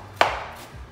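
A knife chops through fresh cilantro for pico de gallo, one sharp close cut followed by a fading tail and a softer second tap.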